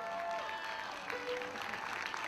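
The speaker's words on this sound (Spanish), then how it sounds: "Un fuerte aplauso" Audience applause at a Latin music festival, a steady wash of clapping from the crowd with faint musical tones lingering early, moderately distant and continuous for a couple of seconds.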